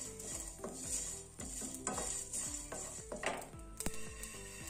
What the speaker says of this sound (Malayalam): കരിഞ്ഞു പോവാതെ ഇളക്കി കൊടുക്കണം.